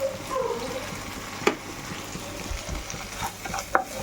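Rice frying in a pan for fried rice alongside chicken kasha, a steady low sizzle with scraping stir strokes and a couple of sharp clinks of a utensil against the pan.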